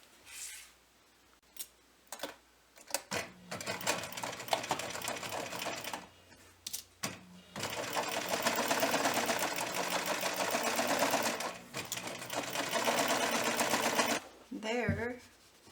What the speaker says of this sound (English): So let's sew it on.